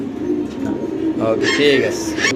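Pigeons coo softly at close range, their low throaty calls mixed with brief higher chirps and a little background noise.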